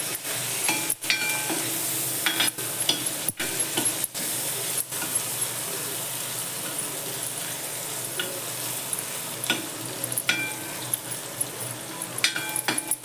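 Chickpea greens fry in an iron pan with a constant soft sizzle, broken by several sharp scraping strokes as the spatula stirs them, heard alone and close.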